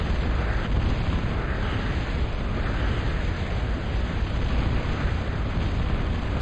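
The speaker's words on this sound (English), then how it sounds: "The artillery is landing on top of this construction vehicle right here." Artillery shells land on a construction vehicle in a real-time strategy game, making a dense, continuous barrage of loud explosive rumbles and bursts with no break.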